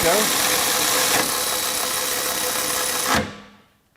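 A Milwaukee M12 FUEL high speed ratchet spins a fastener tight with a loud, continuous whirring buzz for about three seconds, then stops abruptly and the sound dies away.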